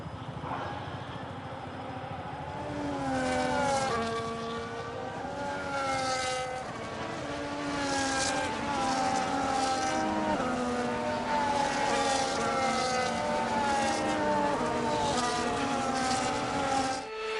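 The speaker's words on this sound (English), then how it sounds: "the formation lap is underway ahead of today's sprint" F1 race cars on the formation lap at Belgium in the F1 25 video game, several high-revving engines whining and shifting through rising and falling pitches, loud and continuous.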